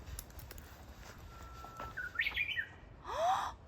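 Small birds chirp in a forest on the Musucheon stretch of Jeju's Olle trail. Several faint, scattered tweets are followed by a louder sweeping whistled call, with no talking in between.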